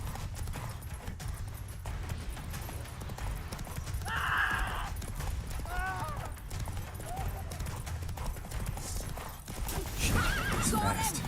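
Hooves of Roach, the horse in the video game Witcher 3, gallop steadily throughout while the horse neighs loudly twice, with game music and people talking over the action.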